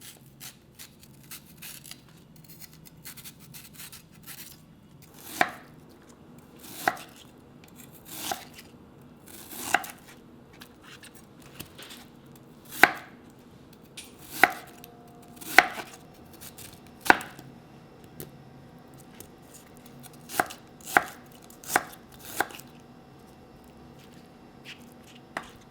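A knife slices raw beef ingredients into thin matchstick strips on a cutting board, a steady series of crisp, close chopping taps that grow denser in the middle, fairly quiet, with no voices.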